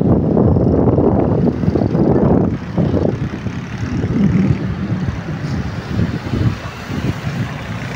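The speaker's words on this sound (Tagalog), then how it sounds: "nakaka-relax, lakas ng hangin dito." Strong wind buffets the microphone in heavy, rumbling gusts that rise and fall continuously, loud and close, at a roadside hangout on the Zigzag road in Antipolo City.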